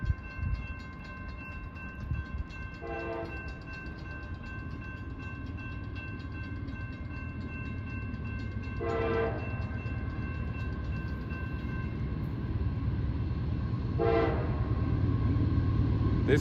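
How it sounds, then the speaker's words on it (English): A northbound CSX freight train rolls through a crossing in Folkston with a steady, loud rumble of rail cars, and three long horn blasts sound at spaced intervals. "then we have a northbound CSX train coming through"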